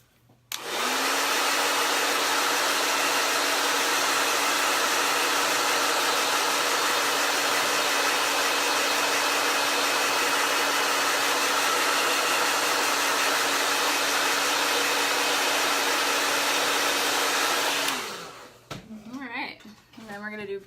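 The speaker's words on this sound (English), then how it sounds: "I'm going to blow dry this really quick." A blow dryer runs at close range, drying chalk paint on a canvas with a loud, steady whine that holds for about seventeen seconds before it switches off and spins down. A little handling noise follows the stop.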